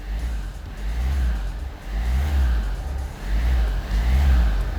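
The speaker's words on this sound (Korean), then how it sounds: "엔진 소리 한번 들어보시겠습니다." A used Hyundai Santa Fe DM SUV engine runs close by, its deep low rumble swelling and easing through several revs over a few seconds.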